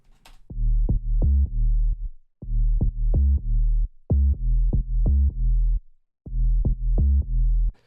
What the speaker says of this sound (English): This is the Serum bass line already with the post-processing on it